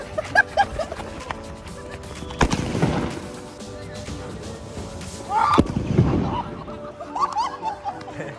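Diwali firecrackers burst during a 2024 celebration, two sharp loud bangs a few seconds apart, each followed by a crackling rumble, amid background chatter and laughter.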